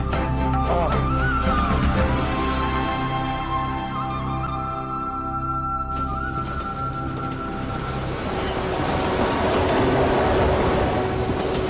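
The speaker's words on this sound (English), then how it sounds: "Another train leaves the station" A little Kalka-Shimla hill railway train pulls out of a station in India, its loud, steady rumble and rolling wheel noise swelling over time with faint clanks and squeals and no talk.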